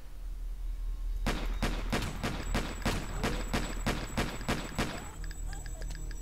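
Video-game gunfire from a sniper rifle and a small pistol: a rapid string of about a dozen sharp, evenly spaced shots rings out loud and close, then stops, leaving faint background game noise.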